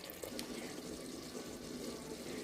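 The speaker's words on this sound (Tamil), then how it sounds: "இப்போ நான் தண்ணி வந்து 4 கப்பு தண்ணி ஊற்ற போகிறேன்" Four cups of water are poured into a pressure cooker for mushroom biryani, giving a continuous, soft splashing stream that holds steady for a few seconds, with no talk.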